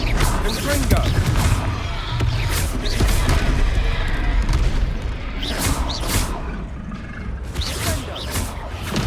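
A Confringo spell blast in Hogwarts Legacy during a troll fight, with several loud booming explosions and whooshes over a dense, continuous battle din, while voices talk over it.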